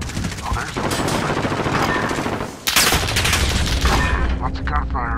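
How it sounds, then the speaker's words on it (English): Rapid bursts of automatic gunfire in Call of Duty: Modern Warfare Search and Destroy rattle loudly and continuously, with a brief gap before another dense volley. "Lots of gunfire right here, buddy."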